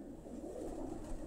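Soft, low cooing from pigeons kept for flying on a rooftop, a steady murmur heard faintly at a distance.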